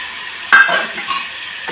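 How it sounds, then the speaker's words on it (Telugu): A spoon stirs vegetables and yogurt together in a pot for veg pulao, a brief wet scrape and clink over a soft sizzle, close and alone. "ఈ పెరుగు మంచిగా ముక్కలకంతా ఇట్లా పట్టేటట్టు కలిపేసాను"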